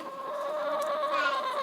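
Chickens cluck close by in a backyard coop, a short run of steady, slightly rising calls heard alone.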